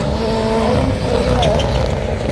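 Ford Fiesta rally car racing hard on a rallycross track, its engine roaring loud and continuous with tyre noise, under a commentator's voice.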